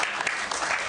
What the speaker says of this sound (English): a round of applause for the peer mentorship program.